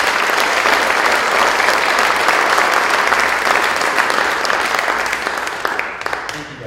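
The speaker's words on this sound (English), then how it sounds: "So please give Michael Potts a round of applause." A high school scholarship awards audience claps in sustained, dense applause that stays loud for several seconds before starting to thin out near the end.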